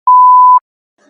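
A single steady electronic censor beep sounds loud and clean for about half a second, then cuts to near silence.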